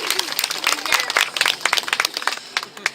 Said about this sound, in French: Vous pouvez éviter d'applaudir, ça va perturber les mesures.